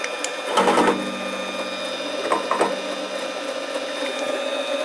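A Harbor Freight 7x10 mini lathe spins a 304 stainless bolt with a steady whining hum and fine tonal ring, broken by a couple of short scraping bursts near the start and middle.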